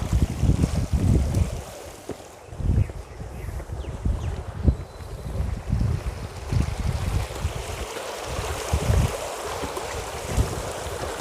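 Steady rushing water from garden fountains at Education City, Qatar, with a broad, windy wash and low rumbles, fairly loud and continuous outdoors, with no voices.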